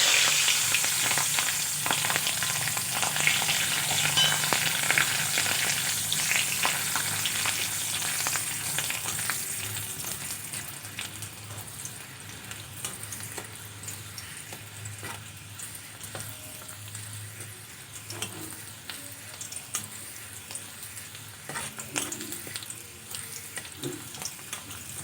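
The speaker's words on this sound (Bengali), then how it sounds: "রসুনগুলো ভাজা হয়ে গেছে, নামিয়ে নেব।" Garlic cloves frying in oil after pointed gourd and dried chillies, a continuous close sizzle with occasional stirring scrapes, loud at first and gradually settling quieter over about twenty-five seconds.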